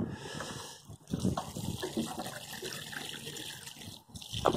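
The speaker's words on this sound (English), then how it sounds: "Just going to water them in now." Water gushes and splashes in uneven bursts as newly planted plants are watered in on an allotment, close by and fairly loud, with brief pauses between pours and no speech.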